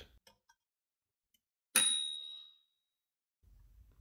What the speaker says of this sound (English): This is the bell of the margin.